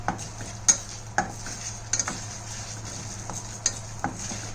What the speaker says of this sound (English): Now we will roast all these until they are all roasted properly.